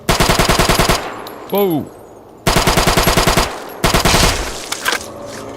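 Heavy machine gun firing in Fallout New Vegas, long loud bursts of rapid automatic fire broken by a short gap where a voice exclaims, then a second and third burst.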